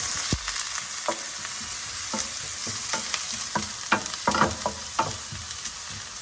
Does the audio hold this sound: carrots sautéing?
yes